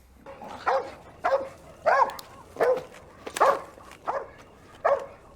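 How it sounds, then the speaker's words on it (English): Dogs in a TV drama bark repeatedly in a steady series of about eight sharp, mid-distance barks spaced roughly evenly, with no talk over them. "They got dogs and everything."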